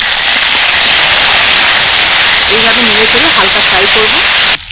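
Tomatoes, ginger, garlic and green chillies sizzle loudly in hot oil, a strong steady hiss that holds throughout and cuts out abruptly at the end, with a voice speaking over it.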